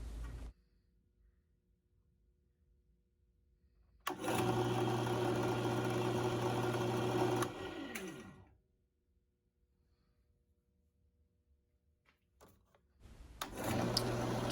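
WEN 4212 10-inch variable speed benchtop drill press motor running in two separate bursts, a steady close whirring hum that spins up, holds for a few seconds, then winds down into silence.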